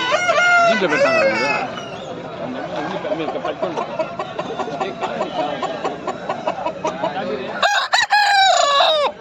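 A rooster crows loudly nearby several times at a Sunday fowl market in Pileru, with clucking fowl and chatter filling the gaps between calls.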